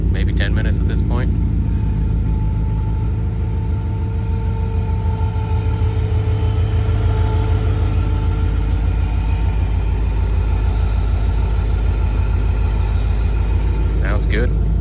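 A 1952 Cadillac barn find idles steadily up close, a deep, even engine rumble running the whole way with a faint higher whine above it and brief clicks near the start and end.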